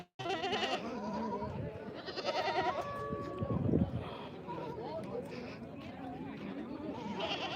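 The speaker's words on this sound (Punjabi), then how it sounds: "ਦੇਖ ਸਕਦੇ ਬੱਕਰੇ ਬੱਕਰੇ" Goats bleat several times amid a busy goat market in Dhanaula, with crowd chatter and voices mixed throughout.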